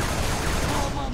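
Rapid gunfire in the video game Halo 3, a dense continuous burst of shots filling the moment, loud and close, heard in a short stretch without talk.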